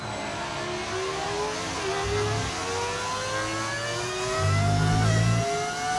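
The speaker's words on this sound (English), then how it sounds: "Does it sound like a V6 V8 engine? It's actually a V10 engine." A V10 Formula 1 car engine in the F1 25 racing game screams through rising gear runs, its high whine climbing in pitch and stepping down at each quick upshift, loud and continuous with no talk.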